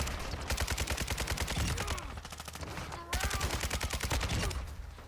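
Heavy gunfire in the Call of Duty DMZ game, with dense continuous automatic bursts from several guns overlapping, sharp and loud, with a brief lull partway through before the firing resumes.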